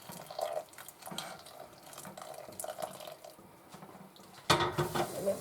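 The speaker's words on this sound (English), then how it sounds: "We're going to slowly add some boiling water because I just got it boiling." Boiling water poured slowly into instant pudding mix in a bowl, a faint trickling splash with spoon clinks and stirring, louder pouring near the end.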